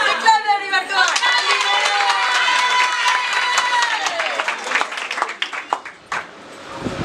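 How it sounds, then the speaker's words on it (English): A group of people claps and cheers in a role-play setting, with shouting voices dominating over scattered claps that thin out near the end. "Clap, everyone. Come on."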